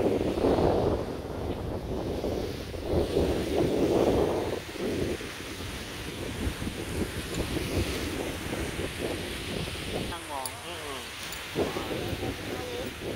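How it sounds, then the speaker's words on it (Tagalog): Gusty wind buffets and rumbles against the microphone at a beach in Boracay, with surf-like noise underneath and people talking faintly. "Mahangin, no?"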